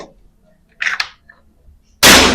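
During an accuracy test, a Daystate air rifle lets off a single abrupt, loud shot close by that cuts through near-silence, after a short, softer sound earlier on.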